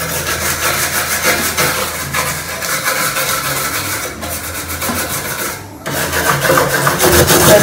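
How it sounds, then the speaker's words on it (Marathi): A gold wire brush scrubs a dirty gas stove in a home kitchen, a loud, continuous rasping scrape in quick back-and-forth strokes, briefly pausing before resuming. "तर आधी मी ना याच्याने घासून घेते, हा गोल्ड तारेचा ब्रश"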